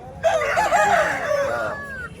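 A rooster crows once at the Bhadradri Kothagudem hen market, a loud, close, drawn-out call that rises and wavers before tapering off, over a faint background of market noise.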